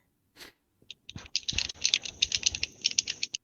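Rapid plastic clicking from a video game controller being button-mashed, a dense irregular clatter of small taps building up after a few isolated clicks, close and fairly loud with no talking.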